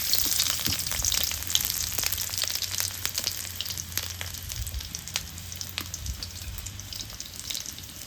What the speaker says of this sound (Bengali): পেঁয়াজ কুচি দিয়ে দিই